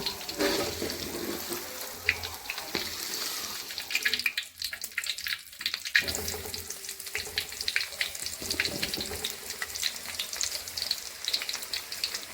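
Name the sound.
tofu frying in oil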